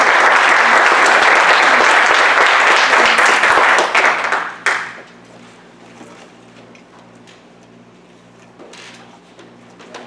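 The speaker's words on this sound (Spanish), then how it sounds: "vamos a darle un aplauso de bienvenida al doctor" Welcome applause for a doctor giving a talk on radiosurgery: loud, dense clapping from an audience for about four seconds, then it quickly dies away to a quiet room hum with a few stray claps.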